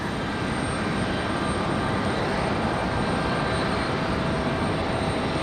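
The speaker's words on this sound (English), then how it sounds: "Hey, it's our A220 300 coming back." A Delta Airbus A220-300 arriving from Boston at Raleigh-Durham airport produces a loud, steady broadband engine roar that holds constant throughout, with no voices over it.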